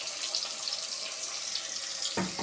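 Water runs steadily from a tap into a mixer grinder jar as it is rinsed in a kitchen, a close, constant splashing hiss that ends with a brief clunk.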